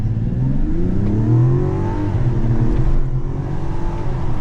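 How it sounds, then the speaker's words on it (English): A 2025 Mazda CX-70 SUV accelerates hard, its engine note climbing through rising harmonics over several seconds, then dropping and climbing again as it shifts gears, heard close from inside the cabin with no talking. "But we'll do a quick little acceleration"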